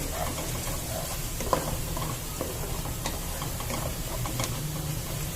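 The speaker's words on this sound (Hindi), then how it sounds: "मैंने जीरा ले लिया था आधी चम्मच, ये अब डाल देंगे। इसको भी थोड़ा सा भून लेंगे।" Half a spoon of cumin seeds roasting in hot oil in a pan, a soft, steady sizzle with faint crackles and a few light stirring taps, no voice over it.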